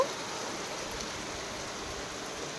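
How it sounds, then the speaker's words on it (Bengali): Torrential rain pours outside, an unbroken wash of hissing noise heard at a moderate distance, steady from start to finish with no talking. "বাইরে প্রচণ্ড বৃষ্টি হচ্ছে কাল থেকে তারা তোমাদের দেখাচ্ছি দেখো মুসলধারে বৃষ্টি হচ্ছে"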